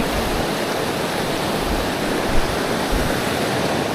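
Loud, continuous rush of river water pouring downhill near Puerto Princesa, a dense unbroken roar that stays close and steady throughout.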